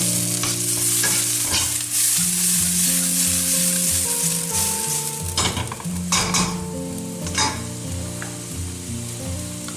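Green chilli and ginger are stirred and fried in a pan for an egg dish, oil sizzling steadily up close while a spoon scrapes and clinks against the pan in irregular strokes.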